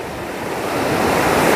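Sea waves wash onto the shore at a beach in a loud, continuous rushing surge with wind noise on the microphone, no voices.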